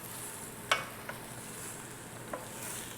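Salted butternut squash and apple pieces are tossed in a pan, a faint sizzle with a few soft scraping clicks over a steady hiss.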